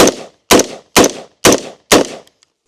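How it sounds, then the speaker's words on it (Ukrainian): An Andro Army ACI-15 airsoft rifle fires five loud, sharp shots at an even pace about half a second apart, each crack decaying quickly, after being filled with slightly damp sand. "Постріл."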